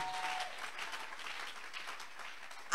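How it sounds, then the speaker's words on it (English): Scattered clapping rises from a church congregation during a testimony, a light, somewhat sparse patter that stays even throughout and ends in a sudden louder burst. "Is somebody clapping?"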